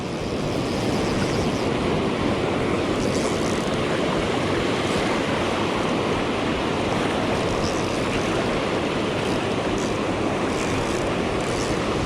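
Ocean waves break on a sandy beach while someone surf-fishes for corbina, a constant loud, close roar of surf and wash that stays unbroken throughout.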